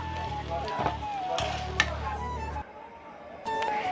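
Potatoes frying in oil until browned, a soft sizzle with a few spatula knocks and scrapes, fairly quiet and dropping off partway before picking up again near the end.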